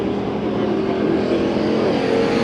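Hobby stock race cars lapping a dirt raceway during a heat race, a dense, continuous roar of several engines close by with no pauses.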